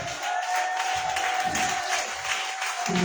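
A church congregation applauds during a worship service, a steady broad clapping wash with a sustained tone beneath and a few faint voices.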